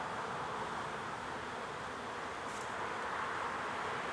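Honey bees buzz steadily around an opened hive during a spring frame inspection, a dense continuous drone close by with no break, no voices over it.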